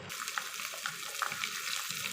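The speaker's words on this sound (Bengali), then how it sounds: "আমি কাঁকরোল ভাজছি" Soft sizzling of teasel gourd frying in mustard oil, with faint crackles and small pops scattered over a low steady hiss.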